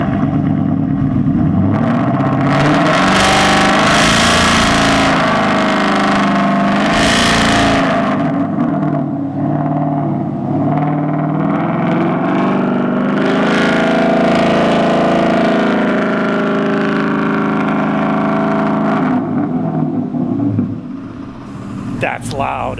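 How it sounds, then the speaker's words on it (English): A straight-piped car engine fires up for the first time after its exhaust has been torn out, a loud rumbling drone that revs and settles at a steady idle for about twenty seconds, with voices faintly underneath. "Okay, first start, straight piped."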